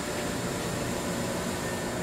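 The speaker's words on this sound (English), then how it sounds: "this is your grinding spindle with the turbine. It works on the air. That's it right there running." An air-driven turbine grinding spindle on a Moore G-18 jig grinder runs with a steady, even whoosh and hiss, a constant close machine drone with no talking.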